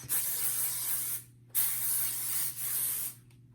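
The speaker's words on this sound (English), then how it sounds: "And then you just a couple sprays." Hairspray is sprayed onto hair in two quick hissing bursts, each about a second long, with a brief gap between them, close and clear.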